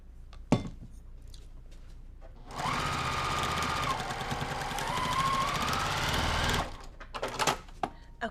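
A sewing machine runs steadily for about four seconds as it stitches trimmed quilt blocks together, with brief faint handling clicks and taps before and after.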